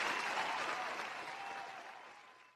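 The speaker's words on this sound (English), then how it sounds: "Applause. A flawless campaign." Audience applause during a talk show, a dense wash of clapping that starts loud and slowly fades over a few seconds, heard alone.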